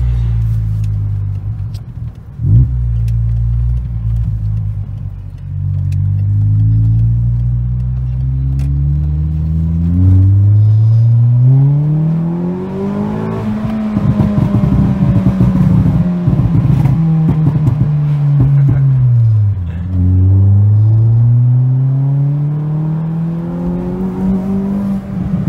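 A Peugeot 206 RC engine revs hard as the car accelerates through the gears, its loud, close rasp climbing in pitch, dropping at each shift, then rising again.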